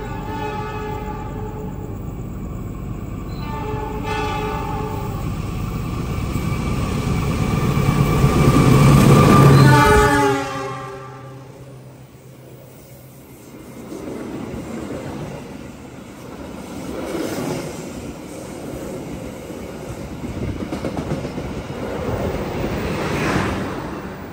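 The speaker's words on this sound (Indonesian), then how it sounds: "Bersilang dengan kereta Brawijaya dari Malang tujuan ke Gambir" A passenger train, the Brawijaya from Malang to Gambir, rumbles past at a station with a loud rushing whoosh that peaks and then drops away abruptly, leaving a quieter, windy background hum.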